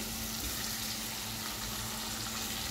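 Fish sautéing in gravy in a pan, a dense, steady sizzle and bubbling hiss at close range, unbroken throughout with no voices.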